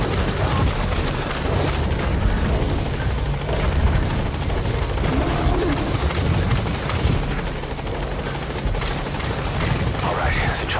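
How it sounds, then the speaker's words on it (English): A helicopter in Metal Gear Solid 5 touches down, its loud, dense rotor roar and deep thumping steady and close throughout, with faint in-game voices beneath. "All right, the chopper's touching down."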